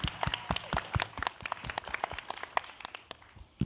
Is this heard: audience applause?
yes